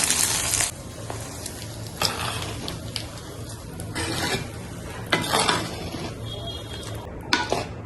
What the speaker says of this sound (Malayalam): കടുക് പൊട്ടിയതിനു ശേഷം ഉഴമുളകും കറിവേപ്പിലയും ചേർത്ത് കൊടുക്കാം.